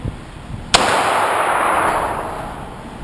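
A single sharp pistol shot cracks at an outdoor shooting range, followed by a long decaying echo and rumble; faint quiet noises precede it.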